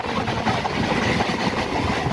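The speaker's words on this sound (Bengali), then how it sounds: "তা এই ট্রেনটাও আজকে দাঁড়াবে।" A train rumbles and clatters steadily nearby at Matla station, a dense continuous noise of rolling wheels and machinery with no voices.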